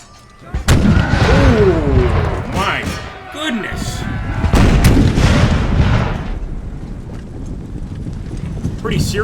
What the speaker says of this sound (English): We got some mortars back here.